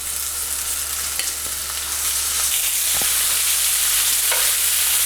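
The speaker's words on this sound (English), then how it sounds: "I'm going to add some oil, and we'll go ahead and sear the shrimp" Shrimp sear in oil in a hot pan over medium-high heat, giving a steady, loud hiss and crackle with a few small clinks and stirring touches, no voices.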